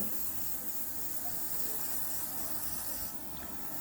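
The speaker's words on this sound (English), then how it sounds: "you're going to literally spray your full nail very thoroughly" A steady, close airy hiss of fine airbrush spray on a fingernail runs continuously, easing slightly near the end.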